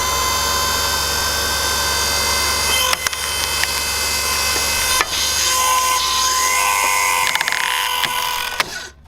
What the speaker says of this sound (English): it's only a dear little motor on the bottom of this, and obviously just runs this plate in onto the split at the end there